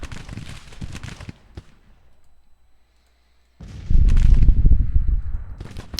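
Crackling volleys of musket and rifle fire rattle in dense bursts across a Civil War battlefield in a strategy game, loud and close, breaking off into near silence before a heavier, booming barrage resumes.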